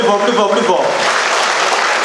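An audience at an assembly breaks into loud, dense applause that rises and holds steady for a couple of seconds, with a voice heard over the start of the clapping.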